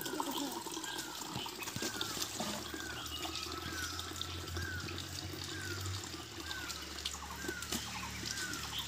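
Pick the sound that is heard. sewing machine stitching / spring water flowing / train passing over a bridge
spring water flowing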